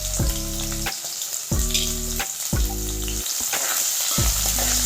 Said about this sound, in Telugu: ఎర్రగా ఫ్రై కానివ్వాలి.